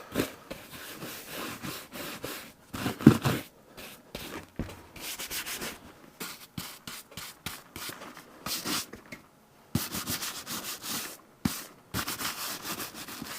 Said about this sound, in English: Just want to get most of the surfaces covered to wipe off the dust and dirt.